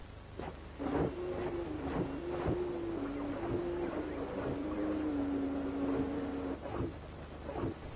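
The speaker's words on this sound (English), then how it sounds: "their mechanical movements and operating sounds." Rhythmic mechanical clanks and footfalls over a whirring motor whine that steps up and down in pitch, from a swarm of robot dogs walking together.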